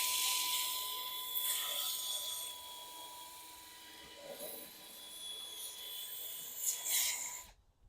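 Fine red TSHYA sanding disc on a power tool: a steady high-pitched motor whine with a gritty, hissing abrasion, swelling and easing as the disc presses against the surface, close, then cutting off abruptly at the end.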